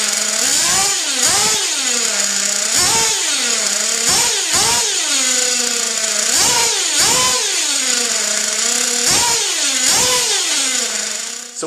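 A nitro-powered RC car engine running on stock fuel tubing, loud and close, its pitch rising and falling repeatedly in sharp revving bursts throughout with no talking.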